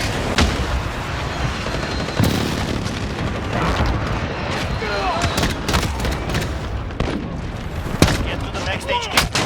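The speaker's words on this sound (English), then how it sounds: "Enemy precision airstrike. Get down." Enemy precision airstrike in Call of Duty Modern Warfare: rolling, heavy explosions and booming blasts mixed with gunfire, dense and loud throughout, with a voice speaking over the chaos.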